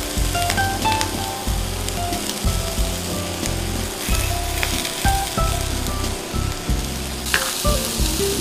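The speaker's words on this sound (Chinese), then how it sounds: "我们把那个培根肉煎熟了就可以了。" Bacon vegetable rolls frying in a pan, a loud, close, steady sizzle and crackle with a pulsing low rumble and occasional sharp spits, no voices.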